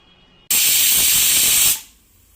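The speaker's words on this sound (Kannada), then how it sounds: "ನೋಡಿ ಒಂದು ವಿಸಿಲ್ ಬಂದಿದೆ" A pressure cooker cooking mushroom biryani lets out one loud, steady rush of hissing steam lasting just over a second, starting abruptly and then trailing away.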